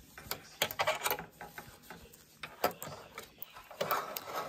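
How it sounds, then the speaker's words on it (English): Mechanical clattering and whirring in uneven bursts, like a sewing machine running in short spurts with pauses between stitches. "Now we're going to go back to our sewing machine."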